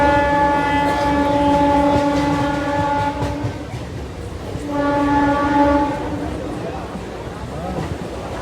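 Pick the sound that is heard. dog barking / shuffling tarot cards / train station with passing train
train station with passing train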